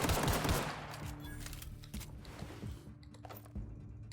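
Hunting rifle fire in The Outer Worlds: a burst of loud, sharp shots at the start, followed by a few scattered, fainter reports over low mechanical game ambience.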